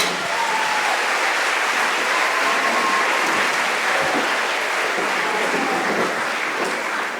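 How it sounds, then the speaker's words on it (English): An audience claps steadily in a dense, sustained round of applause at a school finale concert, filling the room from start to finish. "let's just give them one more round of applause"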